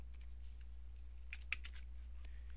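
A few quick, sharp computer mouse clicks on a Windows PC land close together near the middle, small and close-miked over a steady low electrical hum, with no talking.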